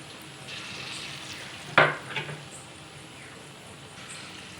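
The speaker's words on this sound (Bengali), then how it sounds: "ধিমে আছে ভালো করে বড়াগুলোকে লাল লাল মুচমুচে করে ফ্রাই করে নেব।" Masoor lentil fritters (bora) frying in a pan make a steady, close sizzle, broken by a sharp utensil scrape and a clink partway through, with no talking.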